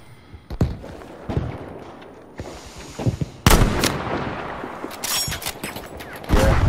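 Gunfire in the Battlefield V multiplayer shooter, including a mounted machine gun position: repeated sharp loud shots and bursts, some clustered in rapid volleys, with quieter distant firing between them and no speech.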